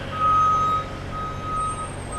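A truck's reversing beeper sounds two steady electronic tones, one long and one short, over a low idling engine rumble.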